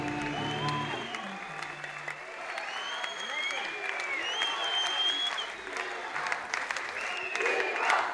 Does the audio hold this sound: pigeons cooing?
no